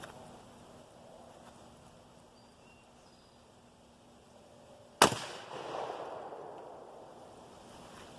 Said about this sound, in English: I'm going to shoot the left set of jugs with the next shot